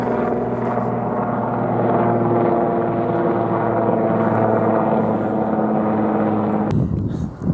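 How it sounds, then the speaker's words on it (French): A helicopter drones overhead with a steady, throbbing rotor hum that holds level, then cuts off abruptly near the end. "il y a cet hélicoptère qui volait au-dessus de nous"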